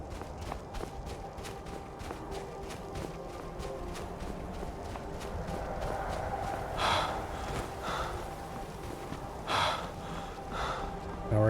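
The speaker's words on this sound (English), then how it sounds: "Now we're gonna have to deal with that panting noise constantly." The player character in the Skyrim video game panting steadily in quick rhythmic breaths, with a couple of louder gasps mixed in and occasional talking nearby.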